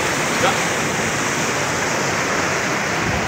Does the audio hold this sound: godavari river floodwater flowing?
yes